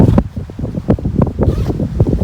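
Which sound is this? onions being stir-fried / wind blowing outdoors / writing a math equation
wind blowing outdoors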